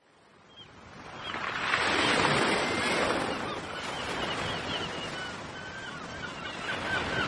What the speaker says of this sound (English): The ocean? I reached the coast.